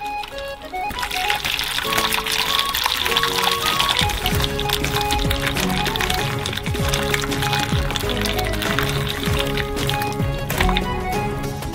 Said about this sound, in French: nous versons de l'eau chaude sur la plaque du bas